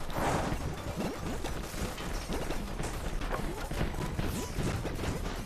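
Repeated explosive blasts from a rocket launcher destroying moles in the video game Molemen Must Die, dense crashing booms and smashes packed continuously together, loud and busy throughout.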